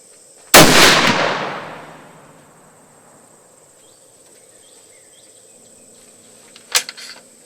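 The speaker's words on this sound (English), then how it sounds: "I just shot this gun through the chronograph" A single loud blast from a Johnston muzzleloader firing 190 grains of black powder (three Magnum pellets) behind a 275-grain bullet, ringing out and decaying over about a second, then a quiet pause and a faint click near the end.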